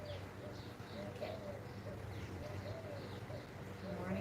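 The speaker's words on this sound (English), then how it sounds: "The morning dove" Soft, repeated cooing of a mourning dove in the background, low and hollow, over steady outdoor ambience with faint chirps.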